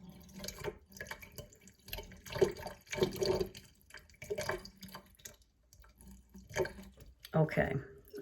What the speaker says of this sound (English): So now that I only have half full of water, I'm going to pour it a little bit slower.